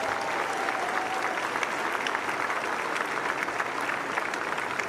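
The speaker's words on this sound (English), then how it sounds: "please give them a huge round of applause" Dense, sustained applause from a large crowd at the WTA Finals tennis event, a steady roar of many hands clapping for several seconds without a break.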